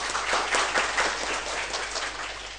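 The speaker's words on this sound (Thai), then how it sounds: "ขอปรบมือให้คุณนพนัน" Seminar audience breaks into applause for a presenter, a dense, steady round of clapping from a roomful of people, loud and sustained throughout with no talking.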